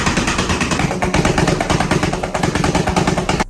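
A turbocharged OTJ car engine blasts through a hood exit exhaust, a loud, close, continuous rumble with rapid choppy pulses and surging revs throughout.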